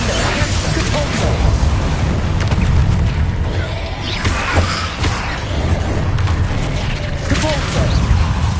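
Bombarda and Confringo explosion spells in the wizarding game Hogwarts Legacy, a dense run of booming blasts, crashes and thuds with rumbling low-end, steady and loud throughout, with some speech mixed in.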